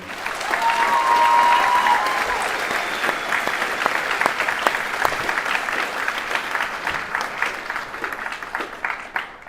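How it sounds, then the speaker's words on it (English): A large audience applauds graduates at a Craft Academy graduation ceremony, swelling into loud, sustained clapping with some crowd noise, then thinning into scattered, distinct claps toward the end. "Would you give each graduate a round of applause today?"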